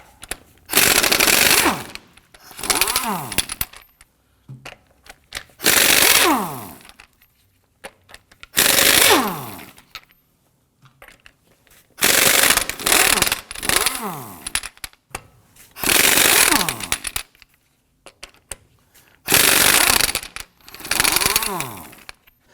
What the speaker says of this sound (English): Using a 22mm socket, we're going to go loosen and remove our lug nuts.